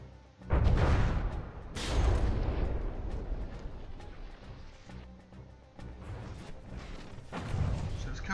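Heavy warship guns fire in the From the Depths naval battle game with deep, booming blasts, three main shots spaced apart, each followed by a long rumbling decay.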